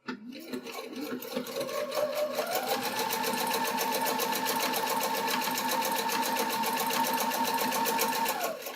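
A sewing machine stitches a dog collar bandanna in one close, steady run, its motor whirring evenly after a quick start-up, with no talking.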